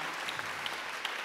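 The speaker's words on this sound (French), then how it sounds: "Je crois qu'on peut l'applaudir effectivement." Steady applause from an audience at a gender-equality business trophy ceremony, a dense even wash of many hands with a few sharper claps standing out, continuing without pause.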